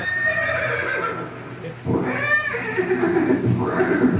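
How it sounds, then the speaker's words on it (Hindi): Horse neighing, presented as Chetak, the warhorse of Maharana Pratap: a loud, close whinny with rising and falling pitch, a short pause midway, then a second drawn-out whinny. "ये दृश्य महाराणा प्रताप और सुविख्यात स्वामी भक्त घोड़े चेतक के अंतिम मिलन का है।"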